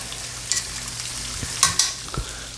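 Onions fry in a skillet with a soft, constant sizzle, punctuated by a few brief clinks and scrapes of a utensil, heard up close.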